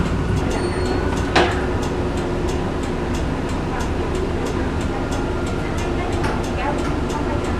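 A tram in Adelaide, Australia rumbles steadily past nearby, a continuous low mechanical drone with occasional squeals and clicks from the rails.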